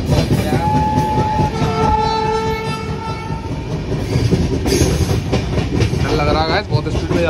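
A passenger train on a trip to Gwalior running fast on the rails, heard from inside the coach as a loud, steady rumble and rattle with a horn blaring partway through and voices in the background.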